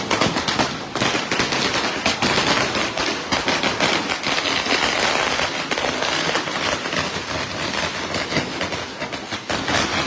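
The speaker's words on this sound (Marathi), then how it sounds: "अगदी फटाक्यांच्या आतिषबाजानं मांडवर आपल्या समोर जोडले गेले" Firecrackers and fireworks burst in a dense, continuous crackling barrage at a welcome ceremony at a festive pandal, loud and close throughout with no pauses.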